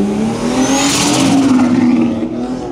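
A tuned BMW E36 engine revs hard and loud, close by, its rising tone sustained for a couple of seconds without any voices.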